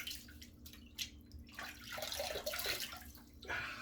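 Warm water scooped from a bathroom sink splashes onto a face before a shave, a few quiet wet slaps and dribbles followed by a longer stretch of running, splashing water, close by and without talk.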